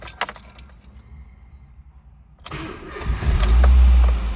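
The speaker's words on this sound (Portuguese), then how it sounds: "Eu vou funcionar o motor aqui e vocês vão ver." A car's engine cranks and catches after quiet handling noises, then settles into a loud, steady idle close by; the car has a battery that drains daily and a battery warning light on the dash.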